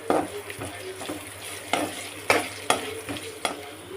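Curry leaves, capsicum and carrot fry in a pan with a constant hiss, broken by a series of sharp spatula scrapes and knocks against the pan at a fairly regular pace, heard up close.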